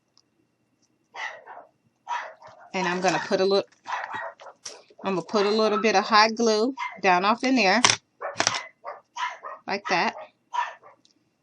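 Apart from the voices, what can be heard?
dogs barking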